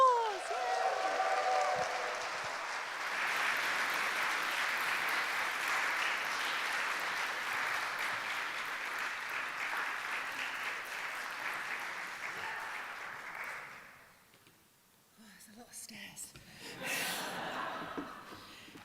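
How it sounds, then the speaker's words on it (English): An audience claps in sustained, even applause for about ten seconds, then it fades out, leaving a quiet room with faint scattered noises. "please give her a big round of applause"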